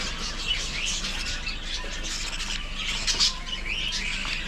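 Bred chicks in a backyard bird collection chirping continuously, a dense chorus of high, overlapping peeps and squeaks over a steady background hum.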